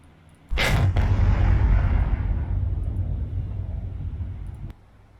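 Naval guns fire on the cruiser Kuma in a naval war game, one heavy deep boom that rolls into a long, loud rumble and fades out over several seconds.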